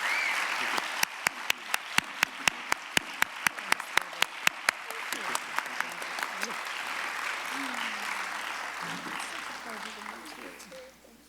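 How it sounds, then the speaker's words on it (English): An audience applauds a panel and film after a screening and panel discussion at The New School, with distinct, spaced claps that thin out and fade into soft room murmur. "please, big round of applause for the panel and for the film."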